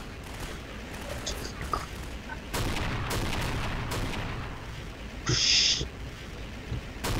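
Missile strike explosions in Garry's Mod: several heavy broadband blasts and rumbling impacts over a noisy battle backdrop, with a brief high-pitched tone partway through.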